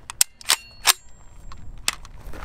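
Sharp gunshots from a Palmetto State AKV 9mm rifle fed from a plain plastic Scorpion magazine, four distinct cracks fired at an uneven pace, loud and close with no talking.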